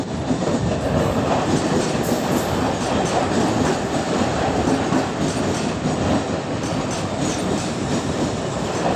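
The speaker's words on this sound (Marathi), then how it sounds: "प्लॅटफॉर्म क्रमांक 4 वर आलेली लोकल 3:16 कसाऱ्याला जाणारी जलद लोकल आहे" The 3:16 Kasara fast local train pulls into platform 4 at Dombivli, a loud, continuous roar of wheels and carriages with rhythmic clickety-clack close by.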